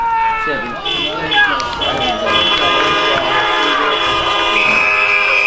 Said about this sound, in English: There's the siren. It is all over here.